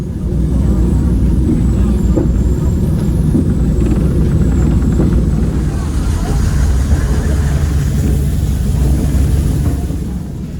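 John Deere-powered 600-horsepower cog railway locomotive descending Mount Washington at slow speed, a loud continuous low engine drone and rumble with faint rattling, steady throughout.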